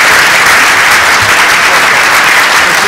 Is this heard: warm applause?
yes